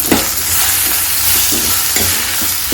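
Chili powder and salt stirred into a simmering egg and fish curry give a loud, close bubbling sizzle, with a few soft spoon strokes through the thick mixture and no voices.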